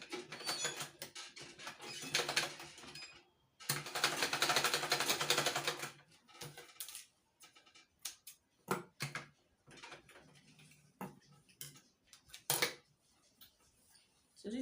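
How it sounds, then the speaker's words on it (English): Home sewing machine stitching a quarter-inch seam along the knit edge of a wrap peplum blouse, loud steady whirring bursts of about two seconds each, followed by quieter scattered clicks and fabric handling. "Once I flip it over this way, I'll just sew in about 1/4 inch"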